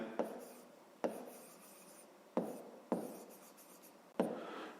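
Pen strokes scratch across paper while a maths problem is written out, in several separate bursts of scribbling, each starting with a sharp tap, recorded close and quiet.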